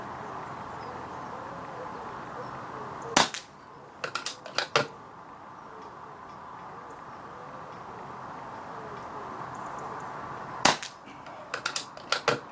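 A BSA air rifle firing Target diabolo pellets outdoors: two sharp shots, each followed by a few quick clicks and clacks, over a faint steady background hiss.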